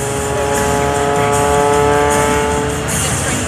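An aerobatic airplane in an inside knife edge spin at an air show, a loud, steady engine and propeller drone with a strong harmonic tone throughout.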